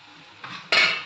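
Chicken being stirred in a pan on the stove, a couple of soft scrapes and clinks of a spoon against the pan, the second louder and brighter, with no talk.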